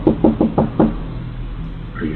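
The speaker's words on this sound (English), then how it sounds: "while continuing to knock on the door" A man knocks on a front door with five quick, firm raps in a steady rhythm, close and loud, followed by quieter background sound with faint talk.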